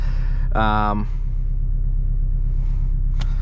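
A 2018 Porsche Boxster GTS engine idles with a deep, steady, even rumble close by, while a voice briefly speaks over it near the start.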